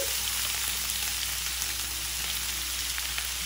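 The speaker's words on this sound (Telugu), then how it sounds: "ఇప్పుడు దానిలో ఉల్లిపాయ, సన్నగా కట్ చేసిన ఉల్లిపాయలు వేసి వేయించుకోవాలి." Finely chopped onions and garlic frying in oil for an egg curry, a dense even sizzle like light rain heard close and continuous, with no one speaking.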